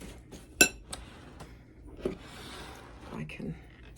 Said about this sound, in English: Going to add my mostly melted butter and give this a good